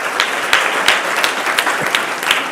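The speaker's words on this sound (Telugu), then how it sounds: "ఒకసారి can you clap for all for your self" Students at an exam-preparation talk clap for themselves, a burst of dense group applause with sharp individual claps standing out, lasting a couple of seconds.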